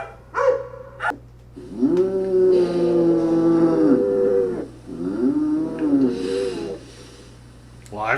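Cattle mooing in a Halloween livestock sound effect, a few long low bellows one after another with short pauses between, loud and near.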